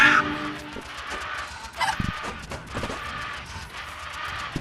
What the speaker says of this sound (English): Yo, come here, chicken.